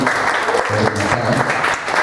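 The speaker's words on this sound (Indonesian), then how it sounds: "Ini komunitas gue dari belum apa-apa sampai sekarang yang tepuk tangan buat senam kelasnya" An audience at a stand-up comedy show breaks into loud, dense applause, with continuous clapping filling the whole moment.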